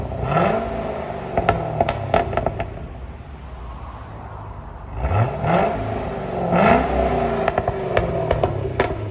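A 2015 Chevy SS 6.2L V8 with X-pipe exhaust idles with a low rumble, then revs up twice in loud surging bursts with popping, close by and with no talking.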